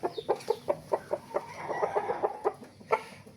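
Fighting rooster clucking in a steady series of short, close clucks, fairly loud, with no talking over them.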